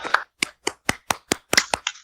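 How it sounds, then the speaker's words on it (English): A quick run of sharp hand claps, evenly spaced and fairly loud, with brief silences between each clap. "Why don't you, give a round of applause for CHK and Dripp."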